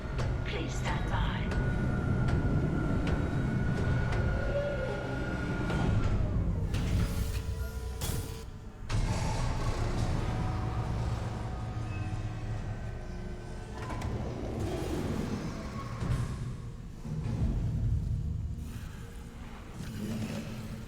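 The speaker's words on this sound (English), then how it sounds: "Replacing damaged tram car. Please stand by." A replacement tram car rolls into a station in the Dead Space Remake, a long mechanical rumble with sliding, whining tones and clanks, heard under an automated announcement and a player talking.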